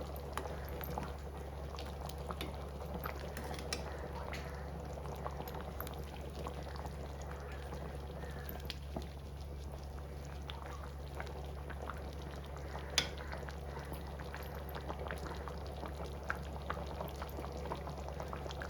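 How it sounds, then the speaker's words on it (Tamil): A pot of Tamil-style chicken curry (salna) bubbles at a steady simmer, with a continuous low rumble and soft popping, close by with no voices. "சால்னா வந்து நல்லா கொதிக்குது."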